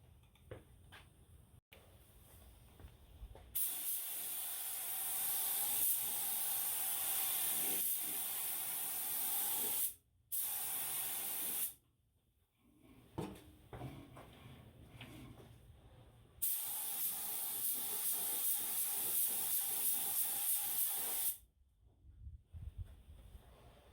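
Spray gun laying clear coat on a new fender for a 1994–2002 Ram pickup, a steady hiss in several long bursts of a few seconds each, separated by short pauses, close and fairly loud.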